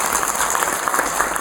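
An audience claps steadily and densely to welcome guests at a foundation day ceremony attended by prominent journalists, a continuous loud wash of applause with no pauses.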